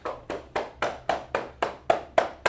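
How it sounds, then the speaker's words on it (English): Nine sharp hand claps in an even, steady rhythm in a class, close and crisp, each ringing briefly before the next. "Clap it up for her in the class."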